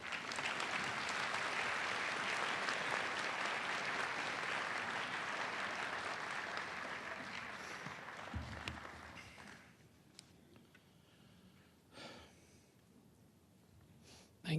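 An audience at a 2016 Yom Hashoah commemoration applauds to welcome a speaker, sustained fairly loud clapping from a hall crowd that fades out, followed by scattered small taps and shuffling.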